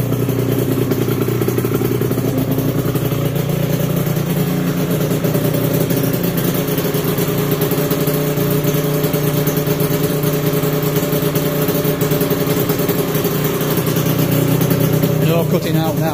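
An Aprilia RS125 two-stroke motorcycle engine running steadily at a buzzy, rattly idle, close and continuous throughout, with a slight rise in revs near the end and a voice talking over the running engine.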